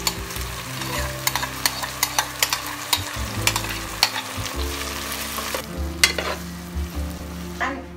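Parboiled dal stirred into potatoes and capsicum cooking in a pan: steady frying sizzle with frequent sharp spoon clinks and scrapes against the metal, nearby and without speech.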